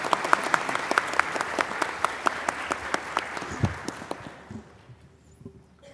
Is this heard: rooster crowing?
no